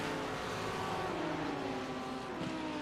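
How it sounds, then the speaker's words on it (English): Ford GT3 race car engine at Brands Hatch GP in a sim racing game, a steady loud droning motor note with rising harmonic whine, continuous throughout with no talk. "Does have a lovely sound though, that Ford engine."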